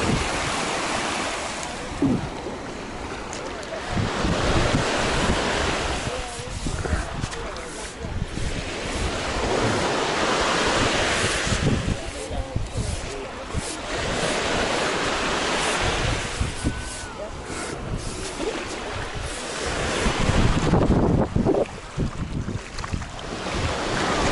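Mediterranean Sea waves washing onto a sandy beach at Alanya, Turkey, a steady surging roar of surf mixed with strong wind buffeting the microphone throughout.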